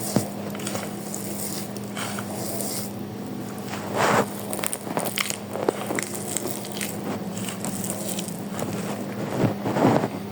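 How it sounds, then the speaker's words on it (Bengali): Cooked rice mashed by hand with banana, sugar and salt. Soft, squelchy squishes come in irregular bursts over low background noise, some close and louder, with no talk. "এখন আমি ভাতটাকে ভালোভাবে মাখাবো।"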